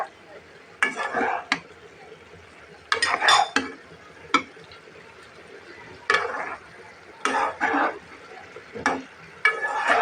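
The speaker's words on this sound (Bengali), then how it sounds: "এখন আমি নাড়াচাড়া করে দিই সুন্দর করে" Samosa filling with soy sauce being stirred in a pan: bursts of scraping and clattering from the spoon against the pan, separated by short pauses, close and fairly loud, with faint sizzling underneath.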